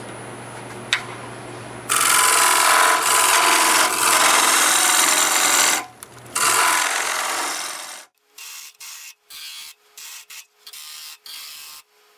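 A tool cuts on a wood lathe deepening a catalpa wood bowl: a loud, steady scraping roar in two long passes, then short intermittent bursts of cutting.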